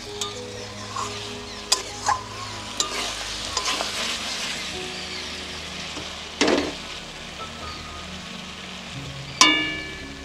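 Chicken pieces sizzle and fry steadily in hot oil for a Bengali reshmi chicken, with a continuous crackle broken by a few sharp clanks of a utensil stirring against the pan.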